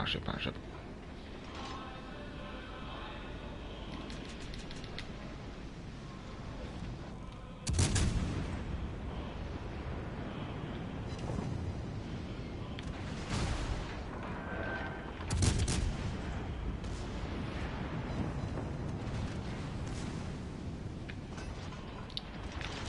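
Battleship main guns fire in a World of Warships naval battle: two heavy, booming salvos about eight seconds apart, each a sudden loud blast that rumbles away. Game ambience and a voice talking continue in between.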